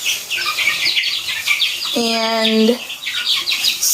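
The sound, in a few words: freshly hatched chicks chirping: Brahmas, Orpingtons, Silkies, Wyandottes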